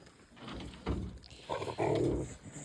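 A nursing mother dog with her puppies lets out a few low, rough growling sounds at close range. The rumbles come in short bursts that grow louder toward the end, with no talking.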